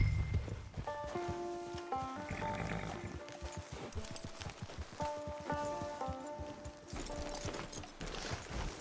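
Horse hooves clip-clopping at a walk in the video game Red Dead Redemption 2, a steady rhythmic plodding laid under a melodic music score, with no speech.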